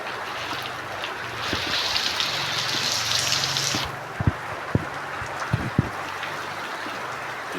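Rain falls in a steady close hiss, louder for a few seconds then easing, with scattered heavier drops and knocks landing near by and no voices.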